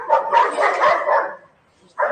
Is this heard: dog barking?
yes